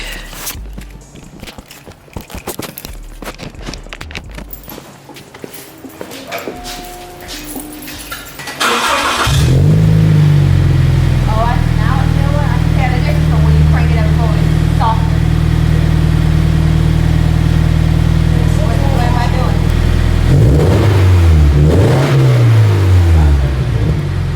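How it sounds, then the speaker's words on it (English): A car fitted with a new Invidia N1 catback exhaust, an FRS, cranks to life and settles into a loud, steady idle with a few revs near the end, preceded by quieter handling noises and footsteps. "So here is the first start with the new Invidia Catback."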